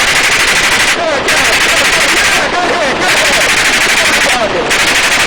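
Rapid bursts of helicopter gunship weapons fire at a Las Vegas shooting range, loud and dense, in three sustained volleys with brief gaps, voices faintly underneath.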